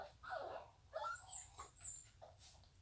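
A puppy gives several faint, high whimpers and whines in short separate bursts over quiet low background hum.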